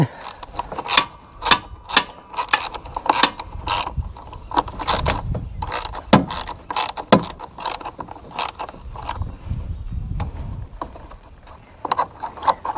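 Ratchet wrench loosening 10 mm bolts on a John Deere Z225 riding mower, a busy run of close, loud clicking pawl bursts and metallic clatter with uneven rhythm and no talking.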